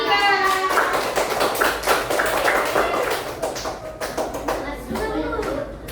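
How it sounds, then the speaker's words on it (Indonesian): Schoolchildren in a fifth-grade primary classroom clap together for a small group of classmates, a dense burst of close hand claps mixed with children's voices and chatter, fading slightly toward the end. "beri tepuk tangan untuk kelompok 3"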